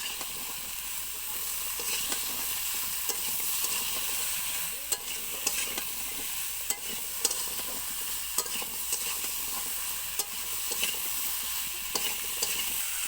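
Cut potato, ridge gourd, gourd stems and eggplant sautéed in spices in a pan, a steady loud frying hiss throughout with frequent spatula scrapes and clinks on top, no talking.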